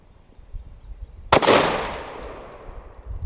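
A single loud .308 rifle shot fired through a rosewood muzzle brake, a sharp crack followed by a long echoing decay outdoors, with quiet shuffling before it.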